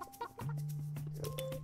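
Chickens cluck in the video game Burly Men at Sea, a few short clucks followed by a steady, close, sustained clucking call with game sounds underneath.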